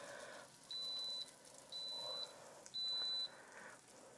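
An Instant Pot beeps three times as it shuts itself off while cooking beef tip stew: evenly spaced, sharp, high electronic tones, each about half a second, over quiet kitchen background noise.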